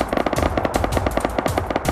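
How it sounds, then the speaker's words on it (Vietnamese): Gunfire in the survival video game Rust, a rapid burst of repeated shots with a quick, uneven rhythm, fairly loud and alone. "Trong lúc tôi đang đập thùng sắt như vậy thì tôi nghe một tiếng súng ở phía bên kia rồi."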